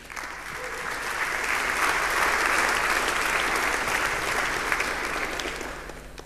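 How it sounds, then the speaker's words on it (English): Conference audience at DjangoCon 2018 applauding steadily for about six seconds, a dense wash of clapping that swells slightly mid-way and tapers at the end, with no talking over it. "So let's thank them with a round of applause,"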